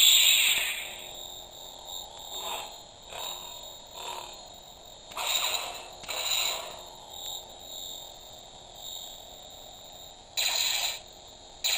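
A WonderForce Hitoren V3 budget lightsaber plays its sound font, a steady electronic hum with hissy, crackling swells and flares as the blade is swung, fairly faint and continuous over about twelve seconds, with no speech.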